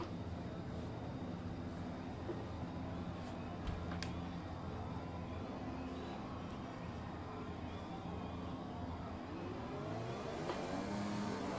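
F1 race cars rolling on a formation lap in the F1 2020 game at the Australian Grand Prix, a steady low engine drone with layered hum and a slight rise near the end, no talk.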